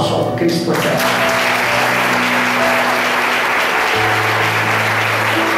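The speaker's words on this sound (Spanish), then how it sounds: "Que te levantes un aplauso." Church congregation applauding together during a Spanish-language worship service, a loud, dense wash of clapping that fills the whole stretch, with a sustained organ or keyboard tone ringing underneath.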